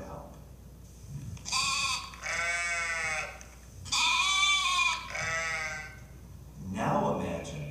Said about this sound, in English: watch what it sounds like for a baby sheep to cry out for help